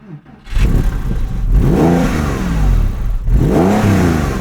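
A Porsche GT3 RS engine fitted with a Gundo hack exhaust that lets gases bypass the muffler revs up loudly and near, with two rising throaty sweeps separated by a brief dip.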